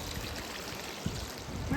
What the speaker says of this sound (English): I want to cross this little brook without falling into the river